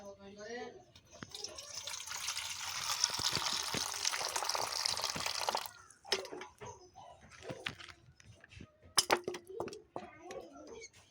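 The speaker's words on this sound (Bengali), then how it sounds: "জলপাইগুলো ধুয়ে নেব" Olives being washed in water for a Bengali spicy jolpai makha, a steady splashing, running-water rush for several seconds, then scattered drips and clatter, close up, with soft talk around it.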